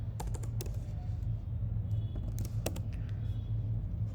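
Typing on a computer keyboard during a webinar, quiet irregular key clicks in short bursts over a low background rumble.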